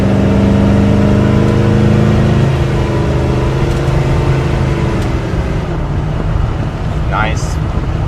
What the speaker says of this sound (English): Nice, kind of not overly hard shifts there, nice firm shifts are what you want